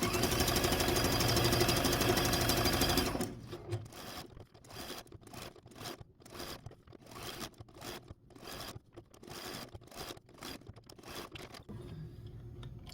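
A sewing machine stitches appliqué around tight curves on a bee-themed quilt block. It opens with a loud, steady run and then breaks into short stop-start bursts as the fabric is turned, with no talking.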